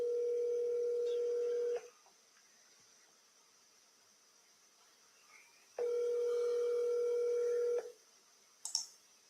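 Two long outgoing ring tones sound on a phone calling an RV park seller back, each lasting about two seconds with a silent gap between, followed by a short click as the line picks up.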